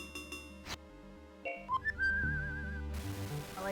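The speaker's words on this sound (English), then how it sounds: "I like that little whistle when we save" Save jingle in the Sega game Beyond Oasis: a short melodic whistle-like tune that follows a few chiming notes and holds a wavering tone before fading.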